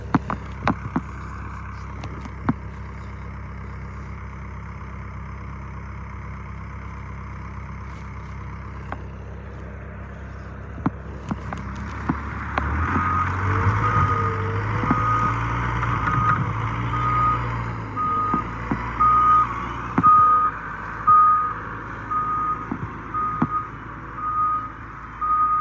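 A loader clearing snow from an alleyway rumbles as its engine picks up from about midway, and a steady series of reversing beeps repeats over the engine for the last several seconds, with no talk.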